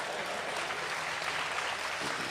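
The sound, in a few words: audience clapping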